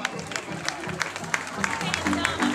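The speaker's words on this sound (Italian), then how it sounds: "Un bel applauso." A small crowd at a kizomba music hall claps in scattered, uneven applause, fairly close and moderate in loudness, with faint murmuring underneath.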